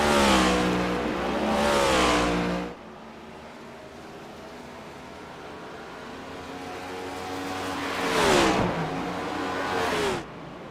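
Race cars at the Roval in the iRacing sim, engines roaring past in two loud bursts with rising and falling pitch, separated by a quieter stretch of distant engine drone, no voices.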